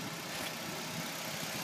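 A small, fuel-efficient car engine idles under an open hood, giving a steady, close, even hum throughout with no voices.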